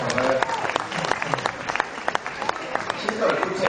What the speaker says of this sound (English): Huge round of applause to Sid, guys.